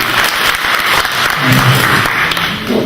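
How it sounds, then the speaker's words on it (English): An audience claps for a visiting head of mission at a community gathering, giving a short burst of steady, fairly loud applause with a murmur of voices underneath. "Shall we give him a clap?"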